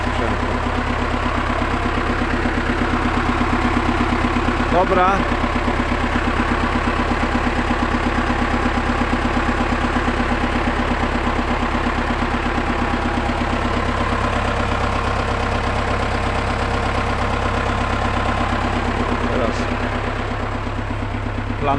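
An old farm engine idles steadily and close for the whole stretch, a constant low rumble with a slight knocking texture; a single short spoken word briefly breaks in.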